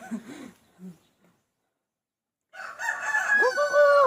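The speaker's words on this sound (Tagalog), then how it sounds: "Nakikisabay tuloy yung manok." A rooster crows once, loud and close, after a few brief clucks and a short silence, the crow rising and stretching out at the end.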